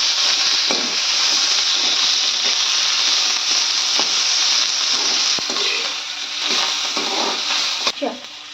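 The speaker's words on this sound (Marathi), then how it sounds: "कांदा टोमॅटो चांगलं परतवून झाले" Onion and tomato, with ginger and garlic, sautéing in a pan, giving a steady close sizzle with occasional scraping stirs throughout, no voices.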